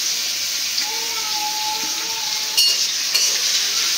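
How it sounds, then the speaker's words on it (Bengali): Chopped onion and green chilli go into hot soybean oil, giving a steady bright sizzle with a couple of sharp clatters partway through. "তেলটা গরম হয়ে গেছে। এখন দিয়ে দিব পেঁয়াজ কুচি"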